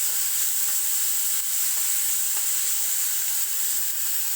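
Green chili paste frying in a pan gives a steady, even sizzling hiss with no pauses and no talking.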